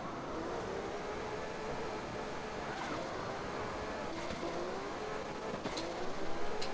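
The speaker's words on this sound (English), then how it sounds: "the engine sounds really nice." Car engine in the drifting game CarX Drift Racing Online 2, a steady loud droning roar holding near constant throughout with slight surges near the end.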